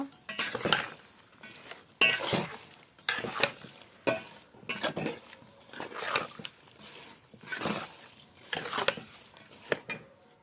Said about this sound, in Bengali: এবার সব আমগুলো এইভাবে মিশিয়ে নেব